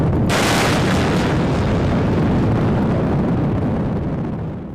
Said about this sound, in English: They fire RIM-116 rolling airframe missiles at rocket-propelled drones flying at over 600 miles per hour.